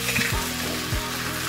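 Pork chop steak sizzles and fries in a pan as oyster sauce is added, a steady close hiss with a couple of low thuds from stirring or pan movement.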